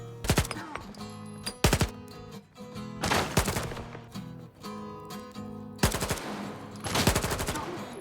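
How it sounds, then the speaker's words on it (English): Gunfire in a firefight in the video game STALKER, repeated rapid bursts of automatic shots in several clusters, loud and close, with brief gaps between volleys. "I still had a few scrapes in the gunfight"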